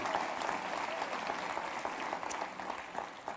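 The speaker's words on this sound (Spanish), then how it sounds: "Dale un aplauso al Rey bendito." A church congregation applauding during a worship service, a continuous, fairly soft wash of many hands clapping that holds steady throughout.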